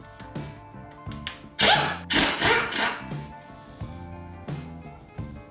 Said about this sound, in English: we can remove the last 2 bolts and get the oil pump off.